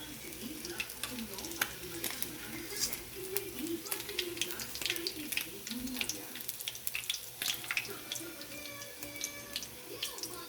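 Tilapia fries in oil in a pan, a dense crackling sizzle with sharp pops and spatters and some scraping, a voice speaking now and then over it.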